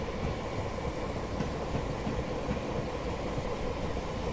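A train rolls along the rails on the South Wales Coastal route in Train Simulator 2017, heard as a continuous close rumble with faint rhythmic clicks from the wheels and no talk over it.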